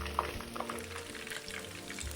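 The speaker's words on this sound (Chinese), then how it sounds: "中火炸約2到3分鐘。" Potato shrimp fritters deep-fry in oil over medium heat, giving a continuous soft bubbling sizzle with a few small pops; close, quiet and steady, with no voices.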